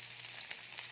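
Onions fry in a very hot pot with a steady, faint hiss and crackle over a low hum, brief and continuous.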